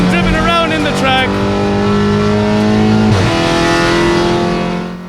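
VW Golf GTI TCR race car on a track, heard from inside as a loud, steady engine drone with shifting revs and a gearshift dip, a voice talking faintly beneath it.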